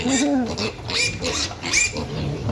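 Piglets grunt and squeal in short, excited bursts close by, with some shuffling and faint background noise.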